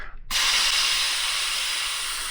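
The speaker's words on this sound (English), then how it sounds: "I'm going through and post-spraying the smoke off on the rooms that we just finished" After a brief quiet moment, a close spray bottle of cleaner lets out a long, steady hiss that continues to the end, spraying off smoke in a hotel room.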